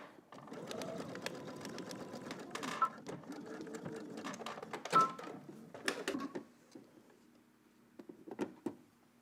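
A sewing machine stitches down fabric on a hat collar, running in quick, uneven bursts of mechanical whirring and clicking, with short pauses between runs and no talk.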